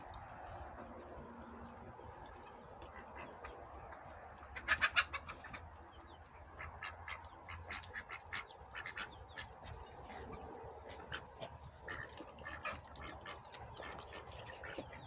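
Turkeys and ducks being fed lettuce give off a steady stream of soft clucks and quacks, with a louder burst of calls partway through, close by and with no talking over them.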